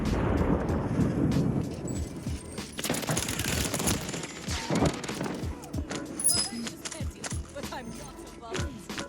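Rapid bursts of gunfire in Call of Duty: Warzone, played with a controller, crackle and thud repeatedly across the clip, dense and loud, with brief gaps between volleys and a voice faintly present underneath.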